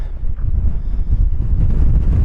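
Strong wind in Red Rock Canyon, California, buffets the microphone with a constant deep, rumbling roar, loud and unbroken throughout.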